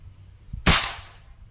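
One sharp air rifle shot fired at a target on a shooting line, a single loud crack with a brief decaying tail, preceded by faint handling thumps.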